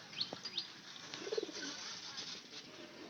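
Pigeons at a house feed on sesame seeds, giving soft cooing and a few faint chirps with light rustling nearby. The sounds are quiet and intermittent over a few seconds, with no talking.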